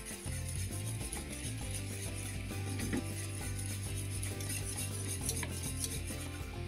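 Egg yolks are stirred into a meringue mixture for a lemon meringue tart, producing a quiet, continuous scraping and swishing in a bowl with faint tonal hum underneath and no speech.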